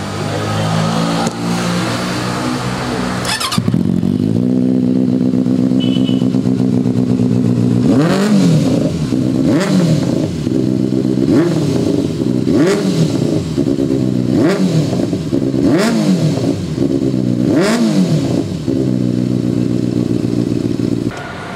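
A Benelli motorcycle engine idles with a deep throb, then is revved repeatedly in a series of sharp bursts that rise and fall, loud and close.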